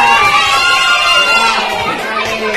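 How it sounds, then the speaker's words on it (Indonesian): A classroom of schoolchildren bursts into loud, continuous cheering, shouting and clapping that carries steadily from start to finish with no pause. "Tepuk tangan buat mereka"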